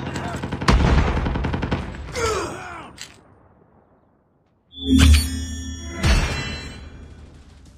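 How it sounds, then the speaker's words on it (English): Automatic sentry gun fire in the mobile shooter Call of Duty Mobile on the Crossfire map: loud bursts of rapid gunfire in two or three clusters, separated by a brief near-silent gap, with mechanical clatter between them. "Sentry gun deployed."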